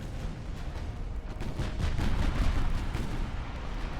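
Heavy cruiser naval gunfire in a naval battle game, a dense rumbling barrage of booming shots rolling together without pause, loud and continuous under distant battle noise.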